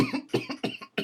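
A narrator's voice imitates a man coughing and choking, giving a quick run of five or six harsh, close coughs in rapid succession.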